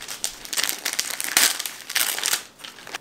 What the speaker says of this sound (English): So let's take the paper off.